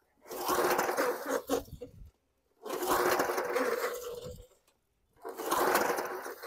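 A 1986 Snapper lawn mower engine cranking in three separate bursts of roughly two seconds each, each sputtering without catching, with short silent gaps between them.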